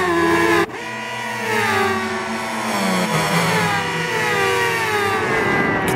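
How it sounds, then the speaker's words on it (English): A motorcycle engine in the racing game RIDE 5, on the Le Mans circuit at night, whines loudly as the revs climb steadily into a corner, preceded by a brief lower-pitched note that cuts off sharply. "You can hear the RPMs rise as you head into the corner."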